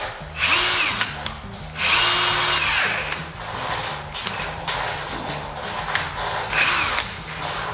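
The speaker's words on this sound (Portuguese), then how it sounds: "Broca 32mm Celsicante, ela já força muito a ferramenta" Einhell 18V brushless drill pushing a 32mm bit into tough material on a low battery, a loud whirring motor that surges and strains in repeated bursts, with the pitch dipping as it bogs down.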